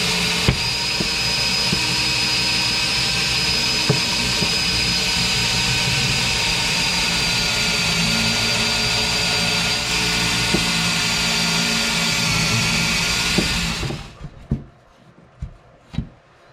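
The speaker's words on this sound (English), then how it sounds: "So we'll go drill the hole on the other side" Steady, loud drilling while a hole is bored for a diesel heater install, running continuously for about fourteen seconds before stopping abruptly, followed by a few faint knocks.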